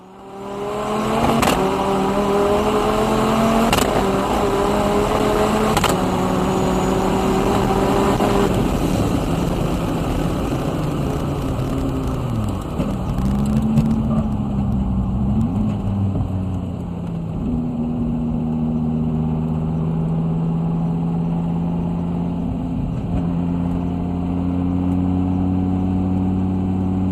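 Dodge Viper race car on a track cool-down lap at NOLA Motorsports, its engine loud and close, first revving with gear changes, then settling into a slower, steady drone.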